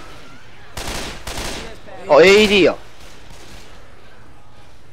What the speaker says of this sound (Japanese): これ E 押したら弾が爆発弾になる。